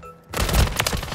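Burst of rapid gunfire from Call of Duty: Modern Warfare 3 (2023), loud and dense with repeated sharp shots over about a second, following a brief quieter lead-in.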